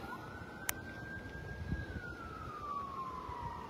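A faint siren wails in the distance, its tone slowly rising and falling, beneath steady outdoor rumble and a single sharp click.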